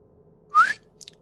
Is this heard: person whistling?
yes